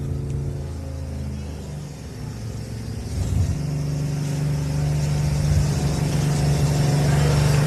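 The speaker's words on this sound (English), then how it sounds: "that would be the sound of the Waitley truck you might hear in the background here" A Waitley race truck engine revs in the background at an off-road endurance race at a 4x4 adventure park, a steady low rumble that builds louder partway through and holds.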